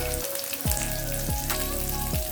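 Chopped onion pieces fry in a pan for spicy chicken fried rice, a steady loud sizzle with a few soft scraping stirs, close and without talk.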